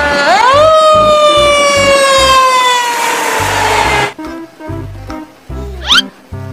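A toy fire truck's loud wailing siren rises and holds its pitch over a thumping beat, then gives way to bouncy music with a quick rising whistle.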